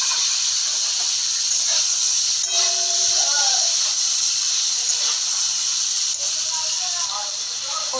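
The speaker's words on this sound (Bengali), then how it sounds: "ফুলকপিটা ভাজা হচ্ছে" Cauliflower frying in a pan for a fish curry, a steady loud hiss of hot oil running throughout with faint clinks and scraping, no talk.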